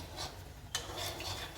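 Pasta gets stirred into a pan of white sauce, giving soft wet scraping and rubbing strokes with a brief utensil clink midway, quiet and close with no talk.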